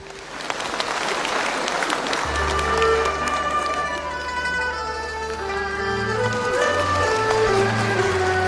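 Applause from a theatre audience welcoming Yue opera performers, clapping that opens the moment and then gives way to stage music with sustained instrumental tones.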